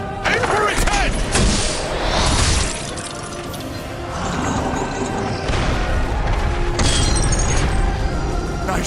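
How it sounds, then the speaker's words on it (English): A ballista shot in The Cursed Crusade, fought inside Hagia Sophia in Constantinople, with heavy crashing impacts and booms amid loud shattering debris and ongoing combat noise, voices talking in the clip. "let's use the ballista to send this abomination back from whence it came"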